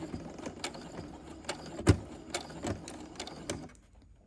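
Sewing machine stitching a fabric face mask in short bursts, quick rhythmic needle clatter with brief pauses between runs, close and moderately loud, then quiet at the end.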